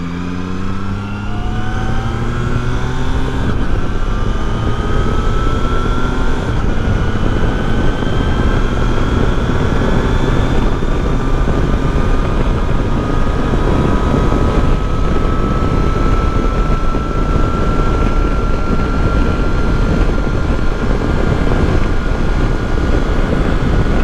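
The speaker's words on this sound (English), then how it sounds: "jump on the freeway and see how this thing does with kind of like the major wind noise" Heavy, constant wind roar buffets a rider on a 2022 Triumph Tiger Sport 660 motorcycle at freeway speed with a Calsci windshield fitted, under a rising engine drone that holds steady for the whole stretch; no voices.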